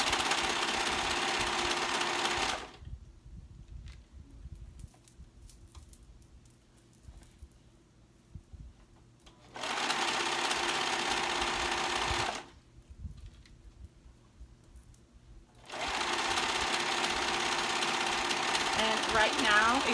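A sewing machine stitches a ruffle onto a sleeve in three loud, steady runs of rapid mechanical whirring, separated by quiet pauses.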